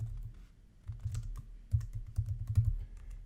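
Someone types on a computer keyboard, entering a client's details into a form, with quiet irregular key clicks coming in short bursts, close and soft with no talking.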